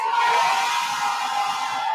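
Crowd at an outdoor political victory rally in a city square cheering and shouting, a dense, loud, sustained roar with no pauses for about two seconds.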